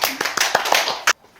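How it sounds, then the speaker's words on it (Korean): Applause at the end of a yoga class: a group claps in quick, uneven, sharp bursts close by, then stops abruptly into near silence. "박수. 아, 좋아요."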